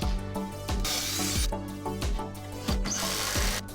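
A power drill drives long screws into wall studs to fix 2x6 cabinet bases, a loud close run of short whirring bursts, several in quick succession, each sharply starting and stopping.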